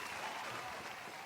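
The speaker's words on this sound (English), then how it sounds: "No, that was the applause." Faint, continuous applause from an audience during an online whisky news show following an award announcement, a soft hiss-like wash of clapping heard alone.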